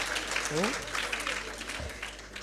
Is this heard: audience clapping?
yes